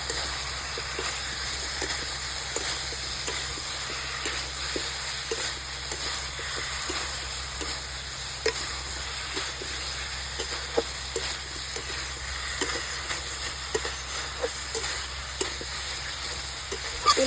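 Cauliflower florets sautéing with spices in a pan, a steady soft sizzle with a continuous hiss and scattered faint clicks from stirring, close and moderately quiet with no talk.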